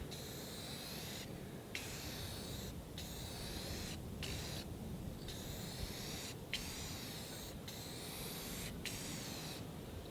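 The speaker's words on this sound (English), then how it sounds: "I really wish I was not spraying this boat with rattle can" Repeated bursts of aerosol spray as clear coat is applied from a rattle can onto a bass boat's painted hull, long steady hisses broken by brief pauses, close and fairly loud with no talking.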